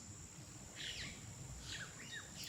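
Faint birds chirp and sing outdoors in short high twittering phrases over a steady broadband background hiss, with no one talking.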